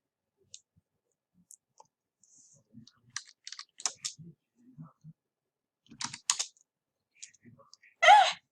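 Typing on a computer keyboard comes through as sparse, quiet clicks and short keystroke flurries, close by, with a louder rustle or clack near the end and no talking.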